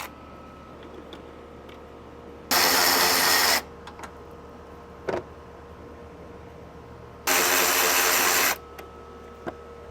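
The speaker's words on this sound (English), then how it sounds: "Now you're going to get the 10mm back out, and you got 1, 2, and 3 bolts right there to remove." Grille bolts come out of a Toyota Tacoma TRD Pro under a powered 10mm socket: two separate whirring bursts of about a second each, with faint clicks and knocks in between.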